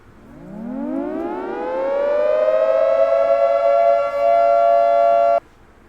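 A synthetic siren tone sweeps upward and then holds a steady, bright wail before cutting off abruptly; loud and alone.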